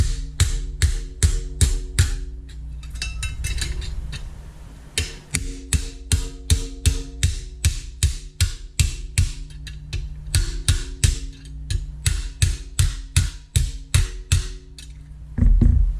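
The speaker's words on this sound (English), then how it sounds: "we can work down this edge with the hammer" Rapid, sharp hammer blows on a Fordson Major tractor mudguard's sheet metal edge held in a vise ring out close by in steady bursts, with short pauses and a few softer taps between runs.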